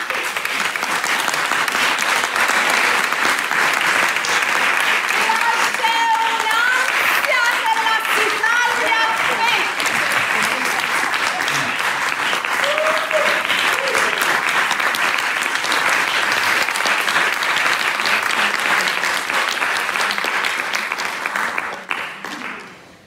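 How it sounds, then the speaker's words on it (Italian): Loud, sustained applause of encouragement from an audience fills the stretch steadily without letup, with a brief murmur of voices in the crowd before the clapping fades out at the very end. "fategli un applauso di incoraggiamento"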